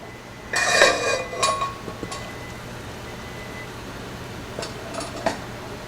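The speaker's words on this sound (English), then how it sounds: "I'll place them in my pot on my stove on medium-high" Blueberries, seven cups of them, tumble into a pot on a stove in a home kitchen, making a short burst of soft clattering and clinks early on, followed by a few lighter taps and then quiet room tone.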